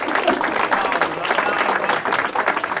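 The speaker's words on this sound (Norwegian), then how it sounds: "så vi har klappet meg bra der" Audience at a stand-up comedy show in a bar in Harstad applauding a comedian, a dense steady wash of clapping hands filling the room throughout.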